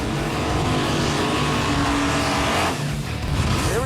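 A race car powered by a rebuilt junkyard LQ4 6.0L V8 doing a burnout on a radial tire: a loud, sustained engine roar with squealing tires, steady throughout and close by.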